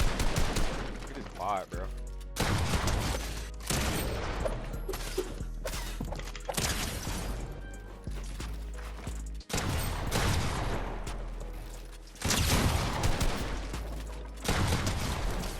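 Rapid Fortnite gunfire bursts in close-range build fights, loud and repeated in clusters with short gaps, while a voice talks briefly over the shooting.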